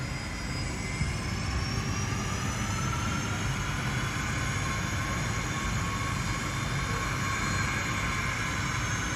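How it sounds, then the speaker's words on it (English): A 1991-built Fokker 100 airliner taxis in, its jet engines giving a steady, moderately distant whine and rumble that stays even throughout. "My plane for today is just pulling in here."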